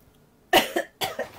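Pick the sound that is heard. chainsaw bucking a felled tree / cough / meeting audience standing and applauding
cough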